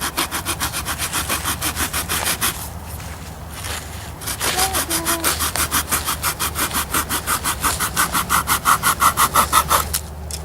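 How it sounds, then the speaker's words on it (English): A hand saw that cuts on both the push and pull strokes rasps steadily through a solid wooden stick, close and loud, in a fast regular back-and-forth rhythm with a brief pause partway through. "This one is going to cut when I push and when I pull."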